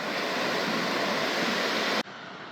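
Ocean waves break on a Newfoundland beach as a loud, steady broadband rush of surf, close to the microphone, cutting off abruptly near the end.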